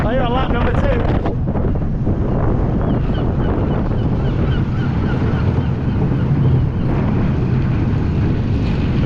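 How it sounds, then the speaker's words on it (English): Strong wind buffeting the microphone in a constant roar at a fun fair in Rhyl, with faint voices and distant outdoor noises mixed underneath. "Ooh, it's getting a bit windy"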